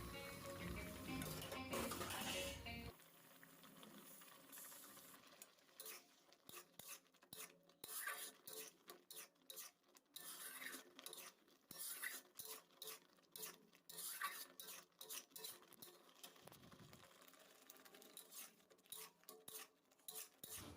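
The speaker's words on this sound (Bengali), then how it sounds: "আমটি ভালো মতন দিয়ে নাড়াচাড়া করে নেব।" A utensil stirs boiled mango in a pan for chutney, producing soft scraping and rubbing strokes in an irregular rhythm, faint and close, after a brief louder sizzling start.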